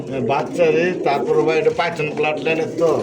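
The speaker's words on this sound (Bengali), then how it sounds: "কবুতর দেখেন একদম" Pigeons at a Bangladeshi pigeon market coo in soft, repeated pulses while someone talks loudly over them throughout.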